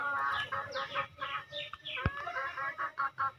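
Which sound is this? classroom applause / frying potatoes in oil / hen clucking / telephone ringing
hen clucking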